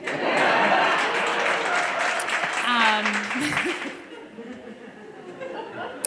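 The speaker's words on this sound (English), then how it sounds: "I'm gonna assume that applause is for me" Concert audience applause swells loud and dense, mixed with chuckles and laughter, then fades as it thins out.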